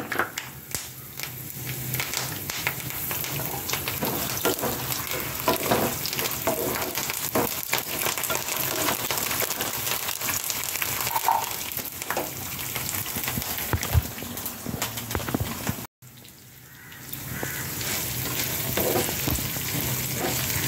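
Chana dal, urad dal and curry leaves fry in hot oil for semiya upma, giving a steady, loud sizzle and crackle with faint stirring, and a brief break near the end before the sizzling resumes.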